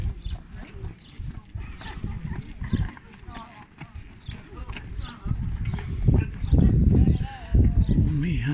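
Horses parade around a racecourse, their hooves clip-clopping in an uneven, overlapping patter close by, growing louder toward the end, with voices talking over the sound.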